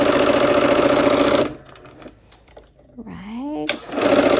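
A sewing machine runs steadily while stitching the last seams of Christmas quilt blocks. It whirs in a loud, even burst, pauses for a short stretch of quiet talk, then starts up again.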